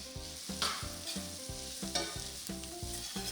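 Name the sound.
onion sautéing with garlic, butter and canola oil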